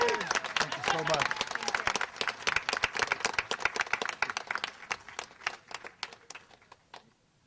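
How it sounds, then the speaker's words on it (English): A crowd at a branch library's renovation opening celebration claps, starting dense under a voice and thinning into scattered separate claps that trail off toward the end. "now we can have all the applause here, folks"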